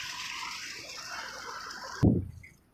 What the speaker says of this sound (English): Oh, the waterfall just stopped on its own.